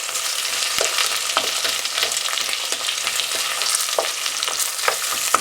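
Green pepper and onion frying in a pan over low heat, a continuous close sizzle with occasional scrapes and stirring clicks, no talk.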